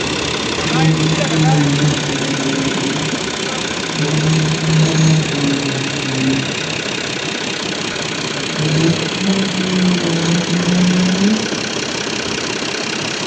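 Tractor engine idling on a trailer during loading, a steady close diesel chug with periodic tonal whines rising and falling over the running motor.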